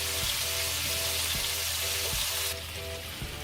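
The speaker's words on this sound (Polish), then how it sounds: "przełożę sobie teraz to na mniejszy palnik i będę jeszcze powolutku sobie to smażył" Meatballs sizzle steadily in a hot pan with a constant hissing fry, broken by a few soft knocks of a utensil.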